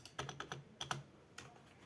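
Key presses on a Rampage KB-R63 gaming keyboard: a handful of crisp, close clicks in small clusters with short gaps, loud and isolated against a quiet room, no talking.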